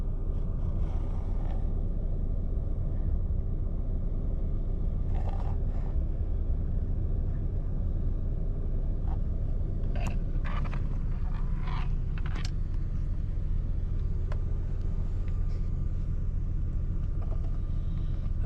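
A Nissan GT-R fitted with a flame kit drives steadily along the road, its low engine rumble and road noise running continuously with a few faint clicks and knocks.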